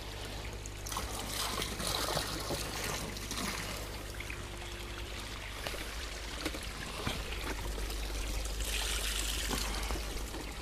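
Water trickles and pours from cascades into a garden pond, a continuous soft splashing with a faint low hum beneath and no speech.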